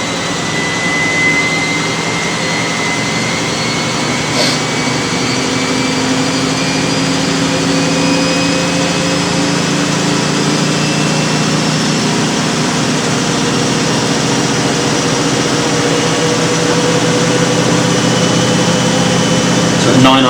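A Miele W562 washing machine spins at 900 RPM on a 40°C automatic cycle, producing a loud, steady whirring drone with faint rising whine tones that holds throughout.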